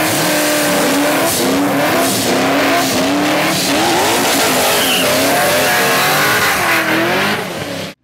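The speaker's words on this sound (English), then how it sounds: "Here's an example of turbocharging." Turbocharged car engine accelerating hard, its loud rising and falling revs sweeping up through gear changes, with a brief tire squeal, close and continuous before cutting off abruptly.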